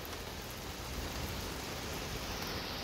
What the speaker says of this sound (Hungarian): reggel 8-kor elkezdett esni az eső